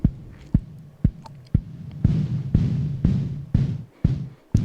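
A deep bass drum synthesized with the Ohm Force Bohm plugin thumps about ten times in a steady rhythm, each hit trailed by a roomy reverb tail.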